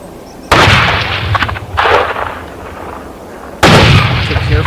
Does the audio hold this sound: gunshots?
yes